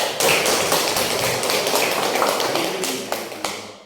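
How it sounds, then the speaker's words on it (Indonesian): A classroom of students claps in applause after a group presentation. Dense, close patters of hand claps go on for a few seconds and then taper off with a few scattered last claps. "Berikan aplaus yang meriah."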